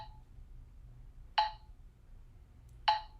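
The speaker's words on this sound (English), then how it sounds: "So I will switch on the metronome." A metronome set to 40 beats per minute ticks slowly, sharp isolated clicks about one and a half seconds apart over a quiet low hum.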